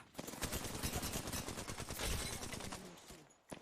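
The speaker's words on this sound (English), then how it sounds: "For a long time, this was like the busted ass shotgun that you could get in Destiny 2" Fellwinter's Lie shotgun firing in Destiny 2 combat, a dense stream of rapid booming shots blending into near-continuous gunfire, fairly faint and with no talking.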